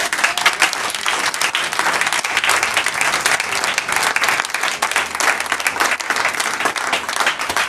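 A congregation claps and cheers loudly at a Christmas Eve vigil service, with dense, sustained applause that fills the whole stretch at an even level.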